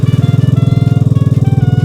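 A Vespa Primavera scooter engine fitted with a Polini camshaft idles up close, loud and steady, with a rapid, even pulsing beat and no voices.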